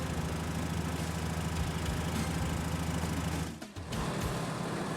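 Mercedes-Benz Unimog diesel engine running steadily at idle with a low, constant rumble, briefly dipping for a moment before resuming.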